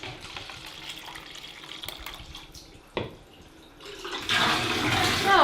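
Water runs and splashes from a tap into a bathroom sink while a baby's potty is rinsed with hot water and soap, starting softly after a clunk and swelling into a loud, steady gush.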